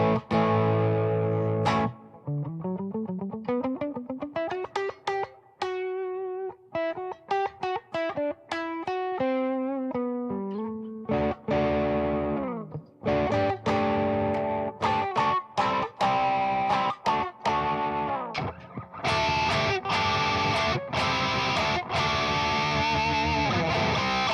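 An electric guitar runs through a Tube Screamer overdrive with ambience reverb, playing rising and falling single-note runs before moving into crunchy, sustained chords and choppy strums. The tone is gritty and close.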